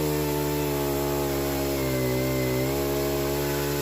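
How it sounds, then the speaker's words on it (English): A small chainsaw mounted on a pole cuts into a tree, its engine holding a loud, steady buzzing whine with a slight dip in pitch midway through the cut, alone without talk. "small chainsaw on stick, not the most expedient tool for the job"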